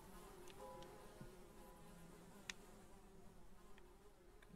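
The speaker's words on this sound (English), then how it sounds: "Hear electricity buzzing somewhere as well." Electrical buzzing drones steadily in a grimy kitchen in the horror video game Hellseed, a low continuous hum with faint clicks and a single sharp tick partway through.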